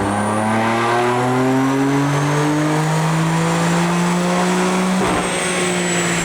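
BMW F82 M4 tuned with a JB4 on Map 2 running 91 octane, revving on a dyno: a steady, loud engine pull with rising pitch that holds strong, then a brief shift-like break near the end.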